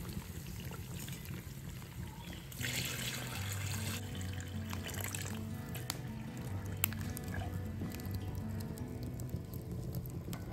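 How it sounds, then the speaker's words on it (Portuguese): Cooking water poured into a clay pot of fried oxtail on a wood-fired stove: a soft, steady stream of pouring and bubbling liquid, fairly quiet with a low hum underneath and faint clinks. "Aí agora eu vou pôr a água, que é de cozinhar mesmo"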